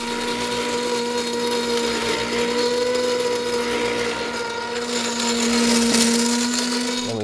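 A motorized mixer churns a batch of homemade chicken feed, a loud steady mechanical whine with a constant hum and rattling grain, close and unbroken.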